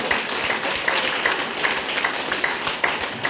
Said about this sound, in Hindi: रिएक्शन के लिए जोरदार ताली होना चाहिए।